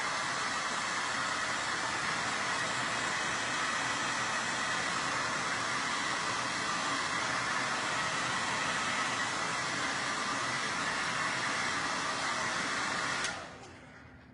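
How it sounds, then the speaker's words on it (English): A handheld blow dryer blasts a steady, loud rush of air over a Mod Podge-coated Christmas craft, running continuously with no talk for about thirteen seconds before cutting off abruptly. "I'm gonna hit it with the blow dryer."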